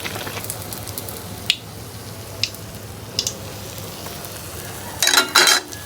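Pitha fries in hot oil in a home kitchen, giving a steady close sizzle and hiss. A few sharp clicks sound partway through, followed by a louder burst of scraping and sputtering near the end.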